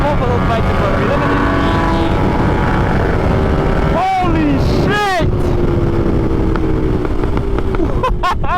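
A KTM 1290 Super Duke riding at speed: a loud, sustained engine roar mixed with rushing wind, with the pitch dipping and sweeping back up through gear changes in the middle, heard close from the rider's position.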